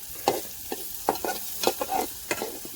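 Dried fish being stirred with turmeric and chili powder in a pan, heard as a series of soft, irregular scraping and clinking strokes over a faint sizzle, close and quiet.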